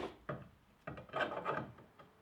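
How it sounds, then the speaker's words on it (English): Steel wool rubbed against the mating surfaces of a Pontiac Firebird Trans Am's suspension parts, a few short, quiet scratchy strokes close by, with no talking. "I clean up the mating surfaces with some steel wool before inserting the new bushing."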